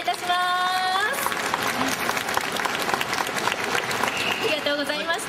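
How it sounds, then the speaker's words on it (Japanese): Audience applause at an outdoor live saxophone show in a Fukuoka plaza during the Dontaku festival, dense clapping from a crowd with stray voices and tonal sounds heard near the start and end. "もう一度大きな拍手をお願いいたします。"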